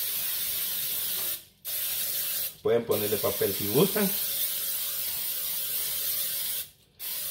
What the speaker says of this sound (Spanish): Yo tengo spray y le vamos a poner spray.